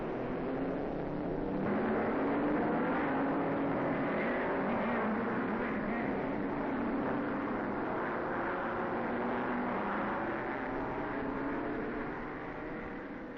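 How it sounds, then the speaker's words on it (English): Racing cars on the Zandvoort circuit in Holland in the 1950s, a continuous engine drone rising and holding as cars pass, fairly distant and steady under old film sound. "All the racing aces are to be found on the course at Zandvoort."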